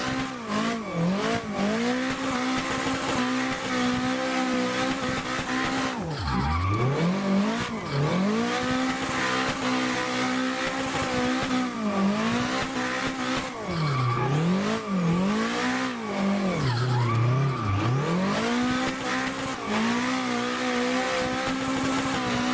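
A Toyota GT86 drifts on a backwoods mod track in the Assetto Corsa racing game, its engine revving up and down in repeated surges with sustained tire squeal through each slide, steady and loud throughout.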